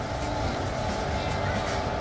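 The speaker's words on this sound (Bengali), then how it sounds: "ট্রেন প্ল্যাটফর্মে লেগে গেছে।" The Kanchanjunga Express standing at a railway station platform, heard as a steady, dense rumble of train and station noise with no distinct individual events.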